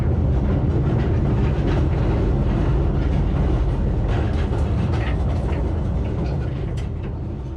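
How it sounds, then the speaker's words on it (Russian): A mine train rides into a tunnel, rumbling along steadily with dense rattling and clanking of wagons, loud and continuous, fading slightly at the very end. "заехали в штольню на специальном поезде."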